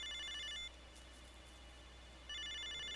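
An electronic telephone ring in the Snatcher video game sounds in two short bursts, one at the start and one at the end, separated by a quiet gap. The tone is fairly soft.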